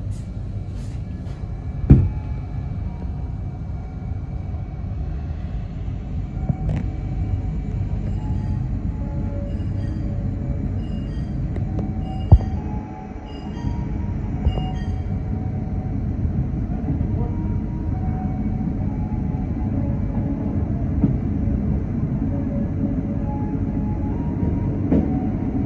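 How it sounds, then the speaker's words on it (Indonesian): A Jayabaya passenger train, just departed Pemalang station in Indonesia, rumbles steadily along the rails, a continuous low roar with occasional sharp clanks and metallic clicks throughout. "Kereta api Jayabaya ini baru saja diberangkatkan dari stasiun Pemalang ya."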